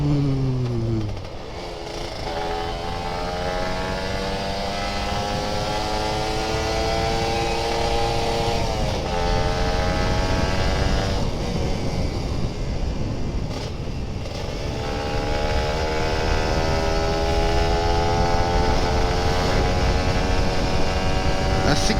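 A Kawasaki Ninja RR 150 two-stroke motorcycle revving hard uphill on a quiet road, the engine note climbing and dropping through gear changes, loud and close with wind roar throughout.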